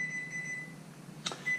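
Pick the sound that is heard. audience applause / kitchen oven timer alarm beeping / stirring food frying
kitchen oven timer alarm beeping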